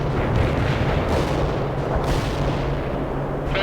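An artillery barrage pounds away in the video game World in Conflict, a loud, steady wall of rumbling explosions and cracking blasts rolling on without pause.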